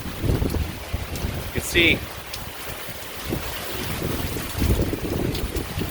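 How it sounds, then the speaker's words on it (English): Strong thunderstorm wind gusts roar across the microphone in steady, buffeting waves, with low rumbling surges throughout; someone speaks briefly partway through. "This wind is really going good now."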